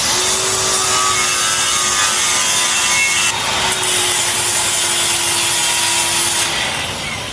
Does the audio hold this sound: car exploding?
no